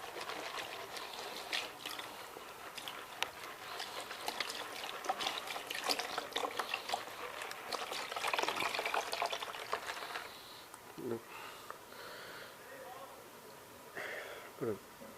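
Creek-bed gravel and shell bits swirled with water in a prospecting pan in a dry creek bed, giving steady sloshing, trickling and gritty rattling up close, then quieter intermittent swishes while someone talks.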